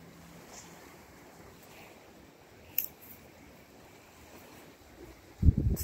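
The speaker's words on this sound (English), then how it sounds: "It's pretty windy." Wind blowing over water near the lake freighter CSL Niagara, a soft steady rush with lapping surf, one brief sharp click midway and a louder gusty buffet at the end.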